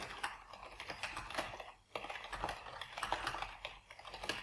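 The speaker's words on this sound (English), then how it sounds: "I can type whatever notes I need in my calendar invite here" A computer keyboard is typed on in a rapid, uneven run of close, faint key clicks with one brief pause, and no voices.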